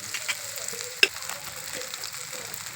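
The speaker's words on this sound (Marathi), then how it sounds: "आता आपला कांदा परतलाय आणि आता आपण यामध्ये तेल टाकून घेऊ." Chopped onions sizzle and fry steadily in hot oil in a pan while stirred, with one sharp clink of a utensil against the pan partway through.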